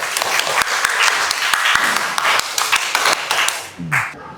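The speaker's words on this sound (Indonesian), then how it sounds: "Tepuk tangan." A crowd of children at a school activity breaks into loud applause, dense clapping sustained for several seconds before fading, with a voice briefly heard at the end.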